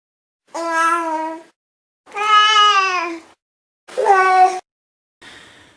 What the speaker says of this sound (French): Je vous fais écouter des pleurs de bébés qui se sentent seuls.